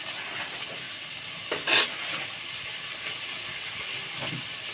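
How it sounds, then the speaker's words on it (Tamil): Green chillies sauté in hot oil in a pan for mutton biryani, a soft steady sizzle throughout with a brief louder stir-scrape near the start. "நல்லா வதங்கட்டும்."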